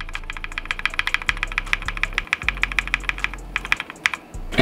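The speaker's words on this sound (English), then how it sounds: "And as for my keyboard, these are KO cream switches, I believe, and they are lubed." Steady fast typing on a mechanical keyboard fitted with lubed KO cream switches, crisp close clicks in a continuous run with a brief pause, over a low steady hum.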